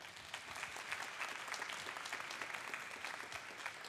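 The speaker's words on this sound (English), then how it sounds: "Let's give everyone in the room a round of applause." An audience claps steadily, a dense wash of applause that holds evenly throughout.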